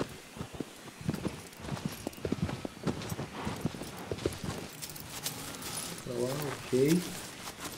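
A horse walks slowly in the video game Shadow of the Colossus, its hooves giving a steady, close clip-clop, with a person talking over it.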